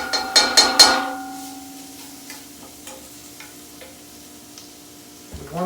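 Onions frying with caraway seeds in a pan for a Hungarian dish: a few loud, close clatters of stirring at the start, then a faint, steady sizzle with occasional light ticks.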